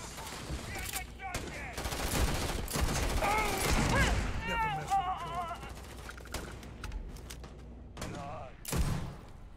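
Bursts of gunfire during a firefight in the video game Starfield, sharp shots mixed with game effects and chirping tones, fairly loud and fading toward the end.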